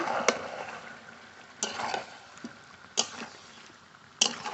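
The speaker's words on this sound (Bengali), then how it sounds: "ঢাকনা তুলে মাংস নেড়ে নেব" Chicken pieces being stirred in a covered pot while cooking, with four separate scrapes and clatters spaced about a second apart over a soft background of simmering.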